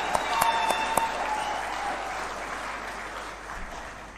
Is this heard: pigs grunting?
no